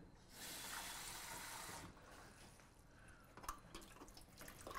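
A kitchen tap runs water while someone cooks, a steady hiss that starts loud, eases off after about two seconds, then continues more quietly with small splashes and drips, no talking.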